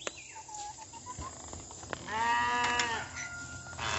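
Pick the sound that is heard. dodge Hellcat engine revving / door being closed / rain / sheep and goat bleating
sheep and goat bleating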